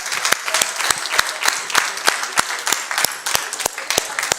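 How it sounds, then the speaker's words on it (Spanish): A church congregation claps loudly in a sharp, fairly regular rhythm of strong individual hand claps, urged on to clap harder, sustained for several seconds without talk. "quiero que tú te des un aplauso"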